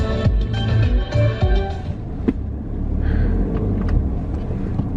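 A car engine runs with deep, uneven rumbling surges heard from inside the vehicle, fairly loud and close, with a few faint knocks and shifts in between.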